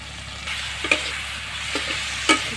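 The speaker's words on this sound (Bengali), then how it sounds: "এখন আমি চিংড়ি মাছ ভেজে নেব" Prawns fry in a pan for a coconut prawn malai curry with taro, giving a steady soft sizzling hiss broken by a few faint clicks and taps.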